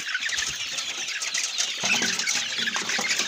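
Hungry chicks cluck softly and irregularly while being fed, amid light rustling and scratching, fairly quiet and close by.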